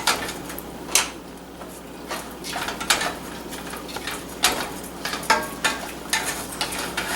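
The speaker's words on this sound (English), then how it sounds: "Now, let's get a spoon. Get this nice and stirred." A spoon stirs a thick puree of the three sisters in a pot, giving a string of distinct scraping clacks roughly once a second against a faint background hiss.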